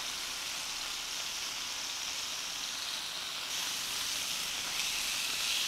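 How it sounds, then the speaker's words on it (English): Thin chicken slices stir frying in a hot pan with chili pieces, making a steady, close, loud sizzle and hiss that swells slightly toward the end, with no talking. "Stir frying this doesn't take very long."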